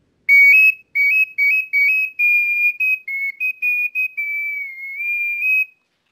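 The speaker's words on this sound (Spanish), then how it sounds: "voy a hacer sonar solamente la flauta" A miniature Mesoamerican tubular flute plays a sequence of clear, piercing high notes, first in short separate bursts, then longer sustained tones gliding slightly in pitch, with no other sounds.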